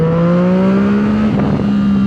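A Yamaha MT-09 motorcycle fitted with a Two Brothers full exhaust system runs loud and close, its engine note holding a strong steady drone that rises slightly in pitch before a brief dip and recovery, with no talking.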